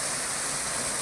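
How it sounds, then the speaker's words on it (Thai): A forest waterfall roars as a steady, dense rush of falling water, loud and close, with no voices over it. "น้ำตกตาด"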